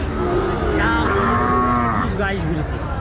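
A cow lets out one long, low, drawn-out moo nearby, its pitch rising and falling against a steady background murmur.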